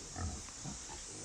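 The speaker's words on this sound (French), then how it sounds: "Il y a des porcs de partout." Pigs grunt in a noisy abandoned place, with a few short low grunts and snorts against a steady broadband hiss, moderately close.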